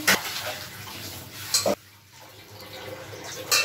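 Tilapia pieces go one at a time into boiling water in a cooking pot for a thin fish curry with drumstick vegetable and potatoes, making three short splashing clatters against a low bubbling background.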